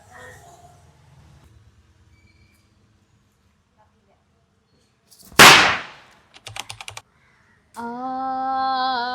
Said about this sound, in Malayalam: കുറച്ച് പടക്കം ബാക്കി ഉണ്ടായിരുന്നു. അപ്പൊ ഞങ്ങൾ വിചാരിച്ചു ഇന്നത് കത്തിച്ച് തീർക്കാം